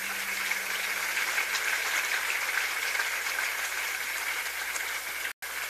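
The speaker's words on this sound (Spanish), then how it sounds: "Aplausos a Rolando Ramírez." A crowd applauds Rolando Ramírez at a church festival honouring martyred friars, a steady, even wash of clapping that lasts throughout with no talking.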